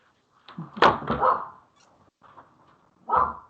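A dog barks indoors during a podcast recording: a cluster of sharp, fairly close barks, a short pause, then one more bark.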